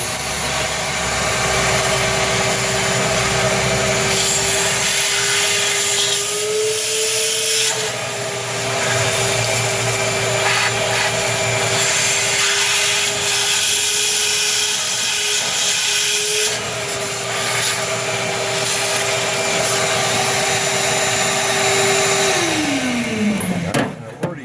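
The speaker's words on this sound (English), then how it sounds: "So here goes the vacuum." Vacuum cleaner drones loudly and continuously with a steady whine, slight pitch shifts as it works, then winds down at the end.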